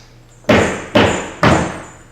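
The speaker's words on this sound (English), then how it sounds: "in front of this huge 50-foot door, and he knocked" Three heavy, evenly spaced knocks on a huge 50-foot castle front door, each a loud booming thud with a short echoing decay and no voices.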